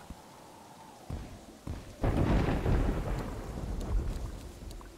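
Thunder from lightning in the video game Terraria: a quiet stretch with a couple of short thumps, then a loud, sustained rolling crash of thunder with rain-like hiss that rumbles on to the end.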